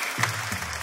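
Brief burst of audience applause for a guest on a Spanish-language talk show, short crowd clapping under a low background hum.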